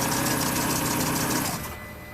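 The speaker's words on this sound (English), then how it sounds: "The engine is running." Citroen C4 1.4 petrol engine idling steadily, a close, even low hum that drops away abruptly near the end as the engine cuts off, with no voices.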